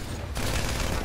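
Gunfire in GTA 5 Online: after a brief quieter moment, a loud, abrupt shot or burst of shots erupts and rings out in a dense, noisy wash.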